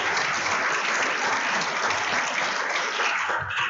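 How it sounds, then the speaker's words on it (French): Dense audience applause following a science café talk about the giant sloth of French Guiana, a steady wash of many hands clapping throughout, loud and close, dipping slightly at the very end. "qu'on applaudisse Pierre-Olivier pour cette magnifique conférence"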